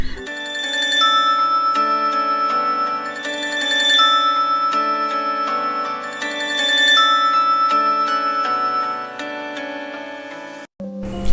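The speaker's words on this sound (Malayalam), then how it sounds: "നോക്കിയ ഫോണിൻ്റെ ആ അലാം സൗണ്ട്." An old Nokia mobile phone alarm tone plays alone, a bright synthesized melody of repeating beeping phrases in a looping rhythm for about eleven seconds, clean and close, ending abruptly.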